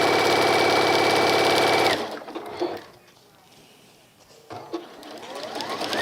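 A sewing machine runs steadily, stitching fabric around a circle for a contrast caddy, a loud continuous whirring hum that stops abruptly after about two seconds, followed by quieter handling sounds and a brief restart.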